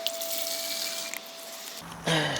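Clean water poured into a plastic garden sprayer bottle, a steady close trickle that changes pitch as the bottle fills, ending in a brief louder splash.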